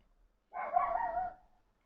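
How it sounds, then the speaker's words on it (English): A neighbor's dog lets out one muffled, drawn-out bark or yowl from some distance away, about a second long, in an otherwise quiet indoor room. "we have also a dog trying to say hello, I guess"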